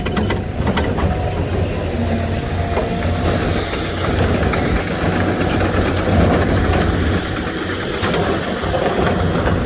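A ripper busts up frozen, frosty ground in Saskatchewan as a heavy engine roars loudly and continuously, with a deep, unbroken rumble.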